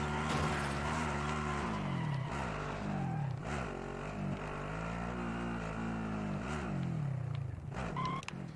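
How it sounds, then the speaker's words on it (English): A vehicle driven in Call of Duty Warzone, its engine droning loudly and steadily with rising and falling revs and gear shifts, close and continuous for the whole stretch. "We need someone to drive. I will drive."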